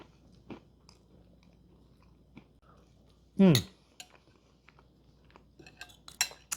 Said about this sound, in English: The crunch of the ginger snaps on top takes it over the edge.